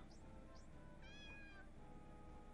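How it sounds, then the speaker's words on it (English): Cat meowing in the video game Final Fantasy Blackmoon Prophecy 2, a single drawn-out meow with rising and falling pitch over a steady game-music background, plus two short chirps just before it. "Aw, the cat's meow."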